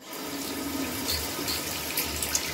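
Tap water runs steadily from a faucet into a sink as hands are wetted, a close, continuous splashing flow with slight surges.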